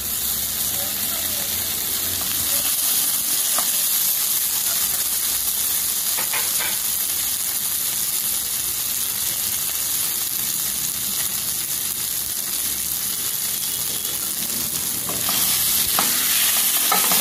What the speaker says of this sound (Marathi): भरलेली जी वांगी होती ती आधी टाकते मी.